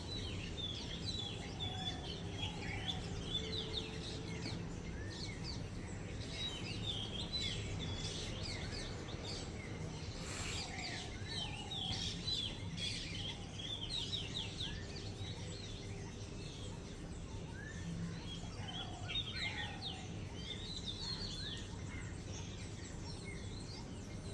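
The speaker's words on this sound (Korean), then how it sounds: "여러 가지 새소리가 들립니다." Assorted birds chirp and call in a steady outdoor morning chorus in Sri Lanka, with faint background hum and occasional distant traffic noise.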